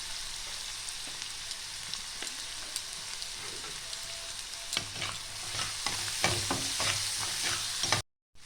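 Salt, turmeric and chili frying in oil in a pan for eggplant bharta, a steady close sizzle with occasional stirring scrapes that grow busier and louder toward the end before cutting off abruptly.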